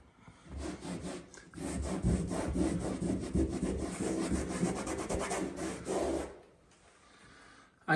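Scrubbing and rubbing at paste discoloration marks on wallpaper, a steady, close, abrasive scraping that runs for about six seconds before stopping abruptly, with no talking.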